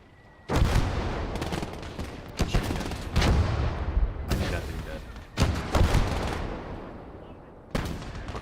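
Gunfire and artillery shooting in the World War II video game Gates of Hell, several loud booming blasts with long rumbling decays spaced a second or two apart, heavy and close, with someone speaking between them.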